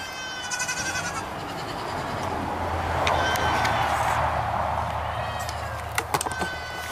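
Goats on a homestead bleat in a crowd behind a gate, a steady wash of overlapping calls with a few higher cries, plus some metallic clicks near the end.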